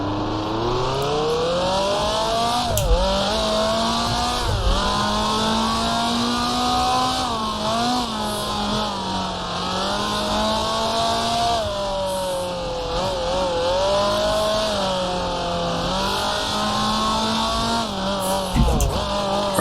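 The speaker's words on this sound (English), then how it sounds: "Down to first gear for the hairpin." A 1966 Formula 2 race car in Grand Prix Legends drops through the gears into a hairpin, its engine loud and close, the pitch dipping with each downshift and climbing again as it pulls away, unbroken for the whole stretch.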